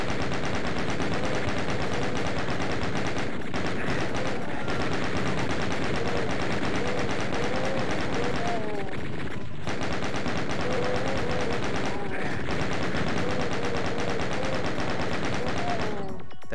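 Chaingunner enemies in the video game DOOM fire chainguns in steady rapid bursts, with dense layered gunfire and explosive game action filling the scene continuously at high volume.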